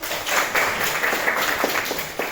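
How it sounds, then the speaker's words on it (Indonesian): Classroom applause from students during a lesson on frequency distributions, a dense, steady patter of many hands clapping together at moderate distance for a couple of seconds. "Oke, baik, kita tepuk tangan"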